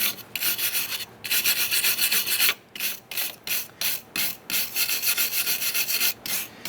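Abrasive scrubbing cleans the front wheel hub surface on a 2002-2007 Jeep Liberty during a wheel bearing and hub replacement, a rhythmic rasping in short repeated strokes with brief pauses between, close and steady.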